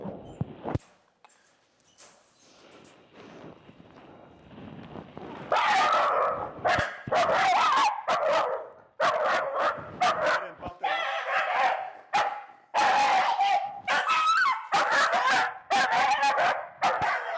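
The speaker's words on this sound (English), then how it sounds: "she starts going off and barking" A dog barks and yips repeatedly, loud and close, in rapid bursts that grow more intense, with some whimpering and a voice mixed in.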